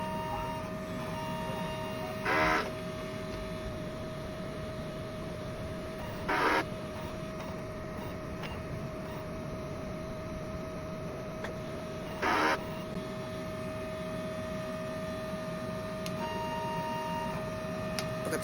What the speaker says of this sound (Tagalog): Head clean po natin.